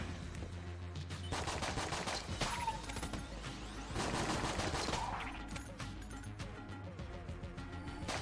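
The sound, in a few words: gunfire shooting bullets in video game Enter the Gungeon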